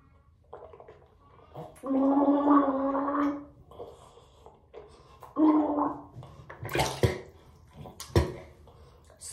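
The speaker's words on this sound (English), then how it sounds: "Next, we're going to gargle." Mouthwash gargled in the throat: two longer bubbling, rattling gargles of a few seconds each, close to the mic, followed by wet spitting and splashing sounds, with no talking.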